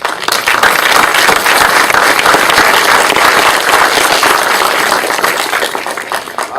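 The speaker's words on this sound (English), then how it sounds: "So give yourself a round of applause for that," Loud, dense applause from a panel audience, many hands clapping together in a steady roar that holds strong and eases slightly near the end.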